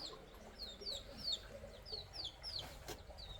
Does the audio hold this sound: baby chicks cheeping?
yes